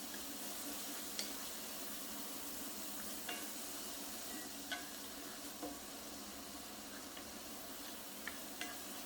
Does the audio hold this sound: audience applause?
no